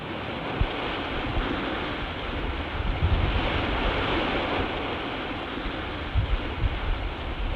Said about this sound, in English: Waves stirred up by 60-mile-an-hour winds made the tanker's hull grind itself to pieces on the rocks.